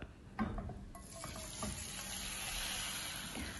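Egg mixture poured into a hot buttered pan for bread toast, a faint splash and then a rising, steady soft sizzle that continues quietly.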